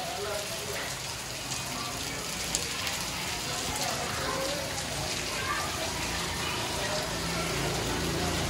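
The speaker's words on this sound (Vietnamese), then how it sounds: "Quán trời mưa." Steady rain falls around a family home on Lunar New Year's Eve, a constant close hiss of water on surfaces with no clear breaks.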